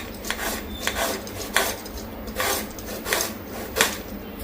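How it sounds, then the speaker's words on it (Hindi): A serrated knife saws through vegetables with repeated rasping, scraping strokes on a board, roughly every half second, close and moderately loud with no talking. "अब ये वाला जो चाकू है जिसको आरी वाला चाकू बोलते हैं, इतना अटकता है"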